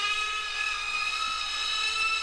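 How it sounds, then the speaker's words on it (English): A Dremel-type rotary tool carving wood, giving a steady high-pitched whine with a constant hum, close and continuous without any talking. "I like the Dremel"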